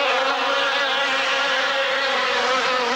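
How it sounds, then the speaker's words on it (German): Flies buzz in a steady, loud, unbroken drone close by, with no speech over it. "Fliegen, Mücken und Wespen machen einem da das Leben schwer."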